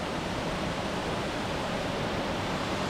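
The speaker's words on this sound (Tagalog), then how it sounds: "Dito pala nanggagaling yung tubig" Water flowing steadily from a cold spring in Sorsogon, a continuous even rush of moderate loudness with no voices over it.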